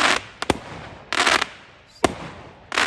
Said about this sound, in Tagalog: ang dami ng fireworks